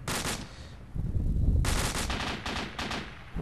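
Rapid bursts of automatic gunfire in the military shooter video game Flashpoint, loud stuttering volleys broken by a brief lull, then several more sharp bursts in quick succession.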